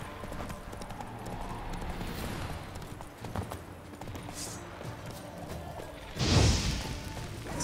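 Hooves of the horse Roach clip-clopping steadily in The Witcher 3, with irregular hoof beats over game ambience and a louder crash or thud near the end.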